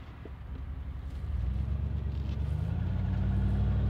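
A 1997 Jeep Cherokee on an off-road course pulls through its gears. Its engine gives a steady, close, low rumble that swells and climbs in pitch as it accelerates, with wind noise and no talking.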